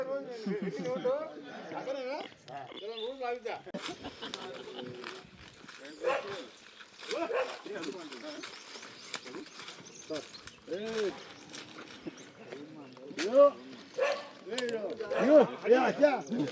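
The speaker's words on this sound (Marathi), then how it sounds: "कुत्र्याला बंधन घाल." A dog barks repeatedly amid people talking and calling out nearby at a village Dhulivandan festival palanquin procession, the barks mixed in with the voices at moderate loudness.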